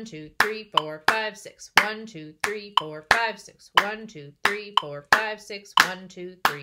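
Sharp hand claps land on beats one, three and five of a steady six-count triplet rhythm for a violin group rhythm exercise, each clap cutting in over a voice counting aloud.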